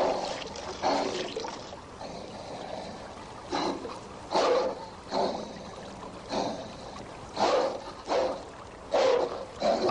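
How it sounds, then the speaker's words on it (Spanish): Dogs barking as a dramatized film sound effect in a biblical audio drama, a series of separate bursts spread through the scene against a soft watery background, no speech. "Los perros lamieron su sangre."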